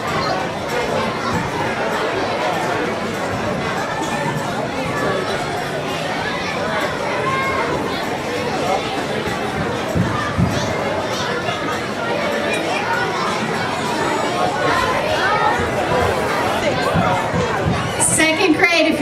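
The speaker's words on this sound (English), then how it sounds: "let's wait for this big crowd to come down" A large crowd of second-grade children and their parents chatters at school pickup, a dense, loud, steady babble of many overlapping voices with scattered shouts throughout.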